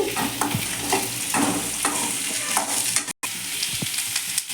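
Radish sizzles and hisses in a hot pan with rock salt while being stirred, with scraping clinks of a utensil and a brief cut in the middle.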